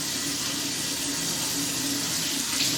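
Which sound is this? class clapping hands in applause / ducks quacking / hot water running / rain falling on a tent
hot water running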